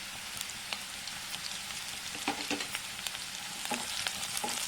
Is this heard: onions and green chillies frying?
yes